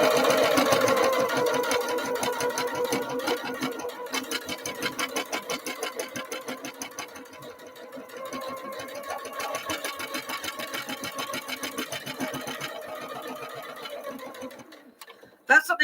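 A sewing machine stitches through a table mat, its needle chattering in a fast, even rhythm close up, briefly slowing midway before running on and stopping at the end.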